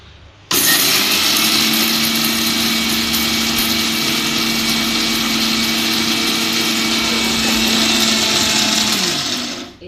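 A mixer grinder runs steadily for nearly ten seconds, grinding dry spices such as urad dal, chana dal, coriander seeds, cumin and pepper into powder for huli pudi. The loud motor whine starts abruptly and stays level and continuous with no voices.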